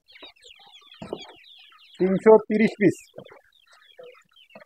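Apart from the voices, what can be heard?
Sonali chickens clucking on a poultry farm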